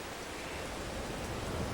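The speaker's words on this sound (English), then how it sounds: "It's raining this morning." Steady rain falls in Farming Simulator 22, a continuous broadband hiss that holds evenly for under two seconds, with no voices over it.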